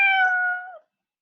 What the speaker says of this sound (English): And now we played our meow sound.